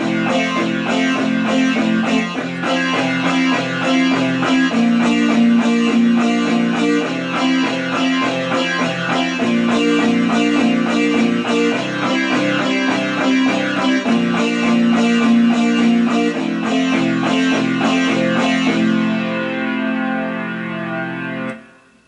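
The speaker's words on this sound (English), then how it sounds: "here's the flat out distortion guitar" A loud, heavily distorted electric guitar tone played from a Yamaha PSR-E363 keyboard, chugging rhythmic chords held steady throughout, then a brief sustained ring as it cuts off.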